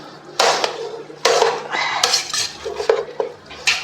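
Cooked coconut rice being mixed in a wide-mouthed pressure cooker, a ladle scraping and clanking against the metal pot in several loud bursts with brief pauses, close by and without talk.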